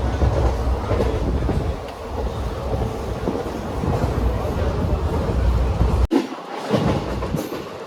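The Sabari Express passenger train (Coimbatore–Kollam), heard from a packed general coach, rumbles loudly along the tracks with a steady rolling clatter, briefly interrupted by a sharp dropout before the noise returns.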